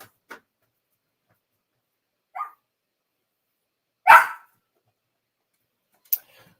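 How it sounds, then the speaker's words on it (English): Puppies give a few sparse, short barks and yips at irregular intervals, one louder than the rest, separated by silence. "these puppies get on my nerve. They always whining."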